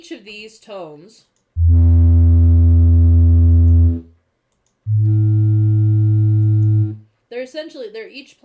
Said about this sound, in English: So with each of these tones,